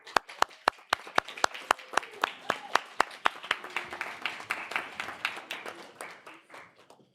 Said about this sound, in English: Can we turn around and actually give them a round of applause